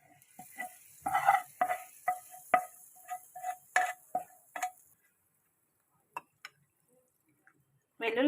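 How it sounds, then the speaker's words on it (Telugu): Garlic tempering crackles in hot oil for a broad bean pickle, with a string of short sharp spits and pops that thin out into silence, then a brief voice at the end. "వెల్లుల్లిపాయలు నూనెలో వేగితే బాగుంటాయని చెప్పేసి తాలింపు వేసుకోవడమే"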